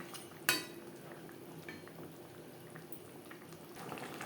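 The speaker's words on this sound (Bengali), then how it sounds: "গ্রেভির সাথে মাছ আরও তিন চার মিনিট রান্না করব" Pabda fish in a potato and aubergine gravy simmers in a pot, a soft steady bubbling that runs throughout, with one sharp utensil clink near the start.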